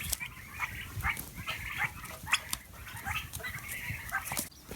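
Turkeys on a farm, a flock giving repeated close, busy clucks and warbling calls in uneven bursts over a low rustling background, with no talk.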